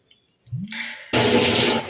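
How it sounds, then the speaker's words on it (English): Bottled water poured over a person's head outdoors, a sudden loud, close rush of splashing that runs steadily after a short low thump and rustle. "I'm going to finish, as I've now made it to my taper week, by pouring some water over my head."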